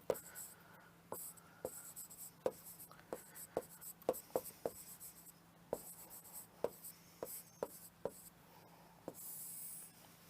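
A marker or pen scratches across a board during a Hindi history lecture on Mughal coinage, with sharp repeated strokes and taps at an irregular pace, close and fairly clear over a quiet room hum.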